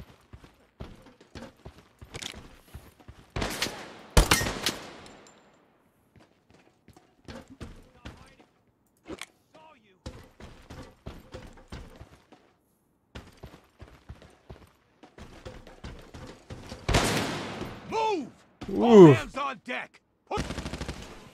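Gunfire in the video game Lost Light, scattered single shots and short bursts across the scene, some loud and close, others faint and distant, with a few sharp louder reports near the end.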